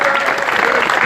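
Steady loud applause from a crowd at a Gilets jaunes gathering, a dense continuous wash of clapping with a cheer mixed in.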